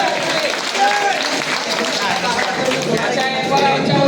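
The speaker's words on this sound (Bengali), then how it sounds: "সবাই খুব জোরে হাততালি।" Audience applause at an embroidery community gathering in Khilgaon, a steady dense wash of clapping from a crowd throughout, with some voices and murmuring mixed in.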